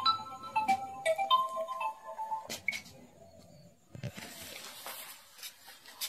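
A mobile phone plays a short, faint melodic ringtone of stepping tones for a couple of seconds indoors, followed by soft clatter and background noise.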